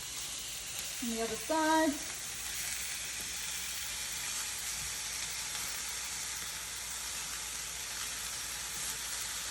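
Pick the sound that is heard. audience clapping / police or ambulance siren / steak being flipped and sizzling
steak being flipped and sizzling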